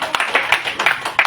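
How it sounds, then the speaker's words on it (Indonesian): Brief burst of clapping from an audience, several quick uneven claps close by, lasting only a moment. "tepuk tangan dulu dong buat Dr. Andika."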